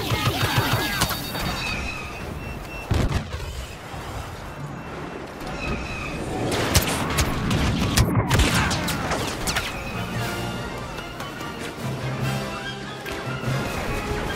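Star Wars Battlefront airstrike during an Imperial walker assault: dense, sustained bursts of gunfire and heavy blasts rolling over a loud battlefield din, with sharp impacts clustering mid-clip and continuing chaotic combat throughout.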